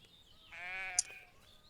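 Sheep bleating in the farm-management video game Everdream Valley on PS5: one clear, wavering bleat, moderately loud and alone, followed by a brief sharp click.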